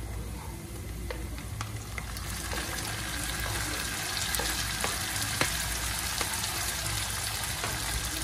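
Eggs frying in a pan for a Moroccan-style breakfast with hot pepper and tomato, giving a steady, dense sizzle with small pops and crackles throughout, close and continuous, with no talk.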